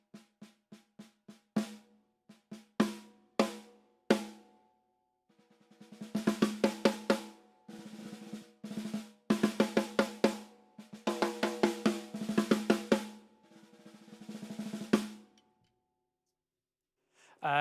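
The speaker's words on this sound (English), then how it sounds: "this is my current tuned snare drum, which is a brass snare" Loud, undampened brass snare drum with a 2-ply head, struck in sparse single hits and then dense rolling bursts and rapid strokes, ringing with a bright metallic tone before falling silent near the end.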